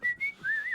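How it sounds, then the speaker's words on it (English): A person whistles a wavering, sliding tune in two short phrases, close and fairly soft, with no talking over it. "I'm concentrating on whistling."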